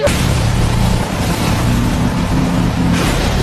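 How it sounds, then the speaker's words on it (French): Car engine rumbling outside a house at night, a steady loud low drone with a brief swell near the end, no voices. "Qu'est-ce que c'est que ce bruit? À qui est cette voiture?"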